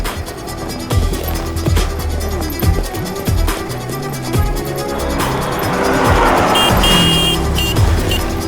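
A car is driven out fast, its engine revving loudly and tires squealing, with a sustained roar that builds and stays close throughout.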